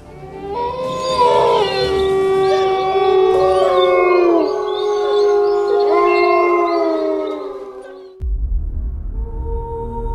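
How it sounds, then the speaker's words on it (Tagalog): Wolf-like creatures howl in long, wavering tones that overlap into a loud chorus under faint growls in a mountain setting, then break off abruptly near the end. "halos mga angil na lang ng mga nilalang ang kanilang mga naririnig"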